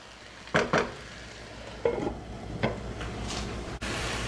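Poblano pepper strips frying in a pan while being stirred, a soft constant sizzle broken by a few sharp utensil scrapes and clinks against the pan.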